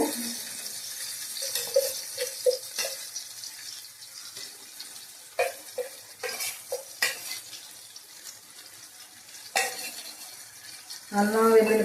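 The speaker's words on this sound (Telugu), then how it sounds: "ఉల్లిపాయ ముక్కలు టమాటాలు అన్నీ కూడా చక్కగా మగ్గిపోతున్నాయి" Onion pieces and tomatoes cooking down in a pan for a chicken curry, with steady soft sizzling and several bursts of stirring and scraping, a ladle clinking against the pan near the end.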